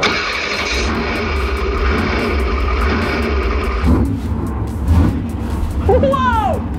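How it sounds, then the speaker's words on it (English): A race truck's loud engine rumbles steadily throughout, with a broad low drone and a brief surge near the end, mixed with other noise. "Do you hear that? The engine is so loud!"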